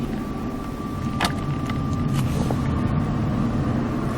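Nissan GT-R Nismo engine accelerating on a track, a continuous loud low rumble from inside the car that builds gradually, with a faint steady whine and a few brief clicks and knocks over the drone.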